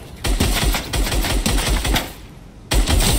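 Fortnite gunfire comes as rapid, punchy bursts of shots in quick succession. After a brief lull, one more sharp burst follows.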